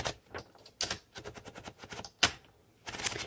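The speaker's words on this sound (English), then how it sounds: "now this is the typing demo for this" A red 1960s Smith Corona Electra 110 electric typewriter types in uneven bursts of sharp, close mechanical key strikes, with brief pauses and a louder single clack near the end.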